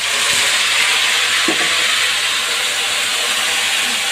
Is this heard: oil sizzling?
yes